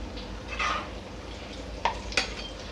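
Dahi bhalla batter frying on high flame while being stirred with a utensil, a soft sizzle running underneath with two sharp scrapes or clinks near the end.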